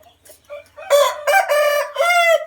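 A rooster crows loudly and close by, a long multi-part call with rising and sustained notes.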